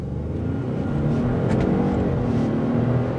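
A 2020 Ford Expedition King Ranch SUV accelerates, its engine giving a smooth, steady low drone and whir heard from inside the cabin, with a faint brief tick or two and no talking.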